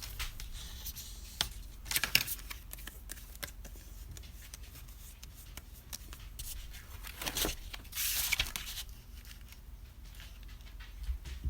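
Scissors cut through cardstock in a few sharp snips and crisp rustles, separated by quiet pauses and light paper handling.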